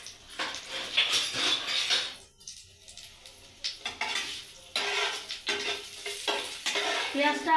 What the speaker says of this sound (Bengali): তেলটা গরম হয়ে গেলে যে চাউটা আমি গরম করে রেখেছিলাম সেই চাউটা এবং যে পেঁয়াজ কুচি আমি কুচিয়ে রেখেছিলাম সেই পেঁয়াজ কুচিটা আগে দিলাম